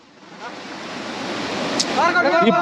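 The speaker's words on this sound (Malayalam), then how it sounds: "അങ്ങനെ നമ്മൾ ലാസ്റ്റ് വെള്ളച്ചാട്ടത്തിലെത്തി" The Chilanthiyar waterfall at Vattavada near Munnar roars as a broad, steady rush of water that swells slightly louder, with a voice briefly heard over it near the end.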